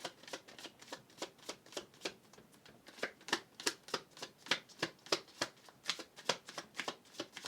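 Tarot cards being shuffled by hand, a close, quiet run of regular riffling flicks that repeat in a steady rhythm with no talking.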